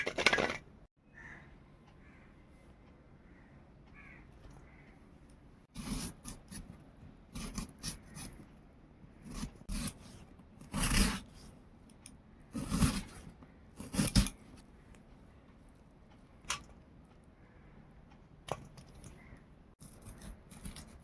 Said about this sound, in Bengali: এভাবে ছোটো ছোটো করে কেটে নেবেন